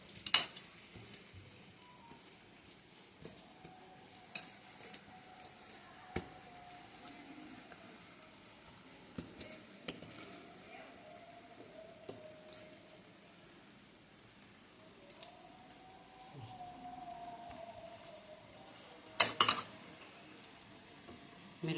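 Raw fish pieces being hand-mixed with a spice paste: soft, wet squelching and scraping comes in intermittent faint strokes, with a few brief louder clinks near the end and no talking.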